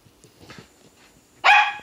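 A dog protecting a baby gives one sharp, loud bark near the end after a quiet stretch with faint shuffling.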